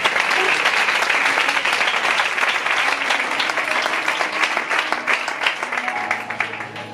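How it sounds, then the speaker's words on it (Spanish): A church congregation claps for the Lord in loud, dense applause that gradually thins and softens toward the end, individual claps becoming more distinct. "Damos un aplauso al Señor"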